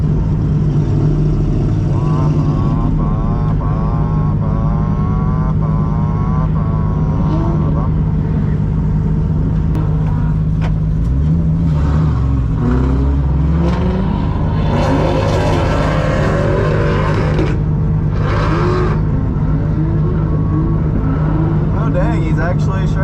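An automatic Dodge Hellcat roars loud and close, its engine revving and surging as the car drifts, with repeated throttle swells and tire noise while people talk over it.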